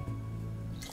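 Dry Curaçao liqueur trickles into a measuring jigger for a Mai Tai, a brief close wet pour with a soft dribbling finish and no talking.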